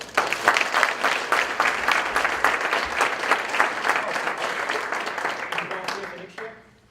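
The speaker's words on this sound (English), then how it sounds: "let's give a round of applause for the coaches" Sustained applause from a crowd, dense and steady for several seconds before tapering off at the end.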